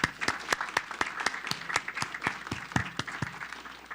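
Applause at a city council meeting: a small group claps in a quick, fairly regular rhythm, close and clear against a quiet room.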